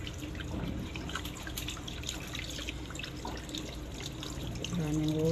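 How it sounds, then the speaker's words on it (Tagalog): Running tap water pours steadily over catfish being washed in a sink, a continuous close splashing trickle with irregular drips, ending as a faint tonal hum rises at the close. "Hugasan jud og tarong sa running water."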